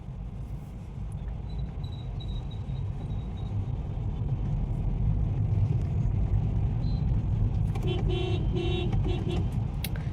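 A car on the move, with a steady low engine and road rumble throughout and a brief horn-like tone near the end; no one speaks.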